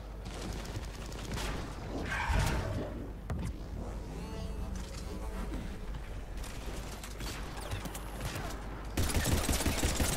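A gun in the Mass Effect 3 video game fires in rapid bursts, loud crackling shots with mechanical clatter, continuing through and intensifying near the end.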